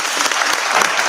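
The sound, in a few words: round of applause at a city work session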